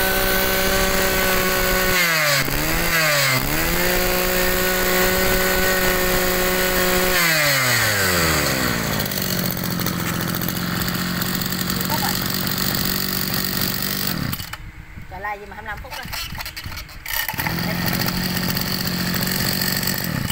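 A Mitsubishi 261 gasoline brush cutter engine runs loud and close, revving up and down several times. It drops briefly to a lower idle before roaring again, and someone speaks over it.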